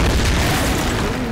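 A bomb explosion in the video game Tomb Raider (2013), a loud, dense, rumbling boom that fills the whole moment at close range and stays heavy throughout.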